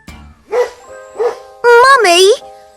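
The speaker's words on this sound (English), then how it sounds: "Mummy, look! A doggy!" A dog barks twice in short, clear bursts on a classroom English listening-exercise recording, and then a voice speaks.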